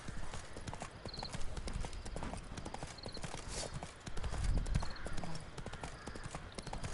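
Horse hooves clip-clop steadily in The Witcher video game, a brisk, even trotting rhythm heard close and clear throughout with a faint background score.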